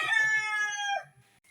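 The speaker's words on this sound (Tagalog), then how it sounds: "Ayan yung aking mga manok." Chickens on a small farm give a loud, close crow-like harmonic call lasting about a second, followed by a few soft low clucks and quieter rustling.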